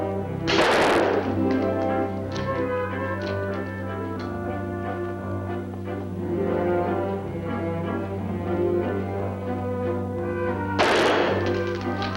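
Two sharp pistol shots from a stage shooting act, one near the start and one near the end, ringing out over a steady hum and background music.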